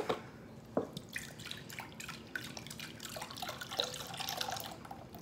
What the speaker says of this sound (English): So I'm gonna use some beef broth.